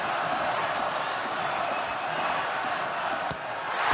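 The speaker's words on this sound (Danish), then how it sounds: "et dansk publikum, der er i overtal, men som virkelig skal tage sig sammen for at larme mere end de kroater" Dense, steady roar of Danish and Croatian fans cheering at a men's handball world championship final between Croatia and Denmark, a continuous crowd wash with a brief slam near the end.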